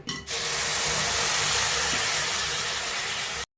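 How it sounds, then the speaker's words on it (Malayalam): Coconut milk poured into hot chicken curry masala bursts into a loud, sustained steamy hiss that starts abruptly and holds steady for a few seconds before cutting off. "ഇനി നമുക്ക് തേങ്ങാപ്പാൽ ഒഴിച്ചു കൊടുക്കാം."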